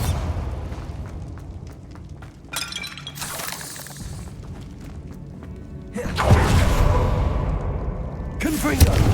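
Bombarda explosion spells in Hogwarts Legacy burst with crashing, shattering blasts amid low rumbling combat noise, a big loud one near the middle and another sharp hit at the end, with spell-casting voices in the mix.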